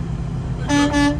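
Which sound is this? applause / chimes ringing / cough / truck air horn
truck air horn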